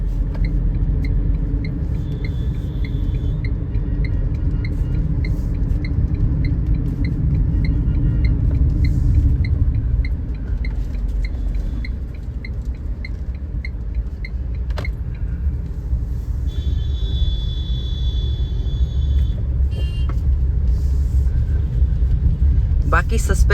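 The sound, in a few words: Tata Punch 3-cylinder engine noise inside cabin in traffic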